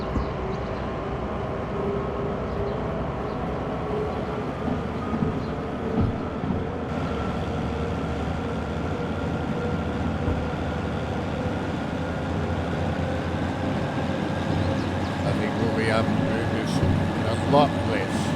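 Light locomotive of about 99 tonnes pulling away in Derail Valley, a steady low rumbling drone with rising mechanical tones, close and continuous for the whole stretch while someone talks over it.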